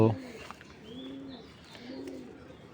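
Pigeons at a pigeon farm give soft, low, rolling coos, two drawn-out calls in a row after a brief knock at the start, heard fairly close in a quiet setting.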